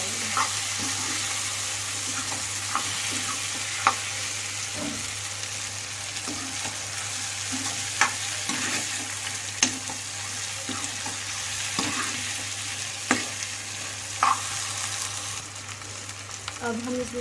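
A spoon stirs mashed boiled potatoes into an aloo matar curry in a frying pan, giving scraping clinks every second or two over a constant soft sizzle, close by and with no talking.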